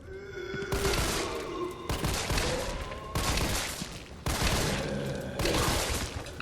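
Gunfire in the survival horror video game Resident Evil 3, four loud, sustained bursts of shots, each lasting about a second, with brief gaps between them and no talking.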